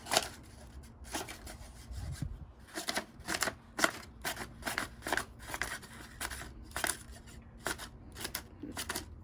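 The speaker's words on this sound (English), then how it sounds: "cut it however many times you want, making sure not to cut the table" Scissors snipping paper to make grass for a paper house, a series of crisp close cuts in short bursts with brief paper rustling between them.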